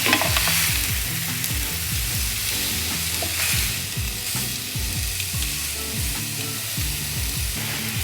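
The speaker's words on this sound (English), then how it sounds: "add the fish and just fry that literally for about a minute on each side" Fish fillets frying in a saucepan greased with Fry Light spray, a steady loud sizzle with repeated stirring and scraping knocks throughout, no voices.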